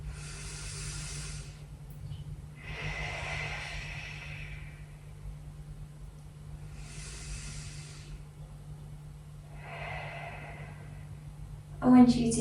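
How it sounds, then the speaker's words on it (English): Slow, deep yoga breaths during a gentle shoulder and arm stretch session, four long airy inhales and exhales spaced a few seconds apart, close and soft over a faint steady hum. "And 2 more grounding breaths in and out."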